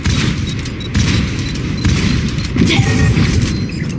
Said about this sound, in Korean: 적 포탑을 파괴했다.